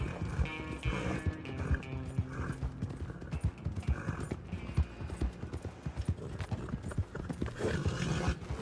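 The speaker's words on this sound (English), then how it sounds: "Good horse. Good horse. Keep running." Rapid clip-clop of hooves pounding in a steady galloping rhythm, loud and close, with an occasional horse whinny over a busy Red Dead Online game soundtrack.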